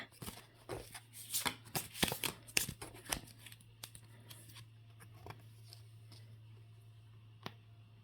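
Tarot cards are shuffled in quick, crisp riffling bursts, then a few scattered soft taps and flicks follow over a quiet low hum.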